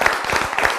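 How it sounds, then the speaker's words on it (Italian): A crowd claps at a village holiday event, dense, even applause that is loud and close throughout the brief moment. "facciamo l'applauso a Maiano"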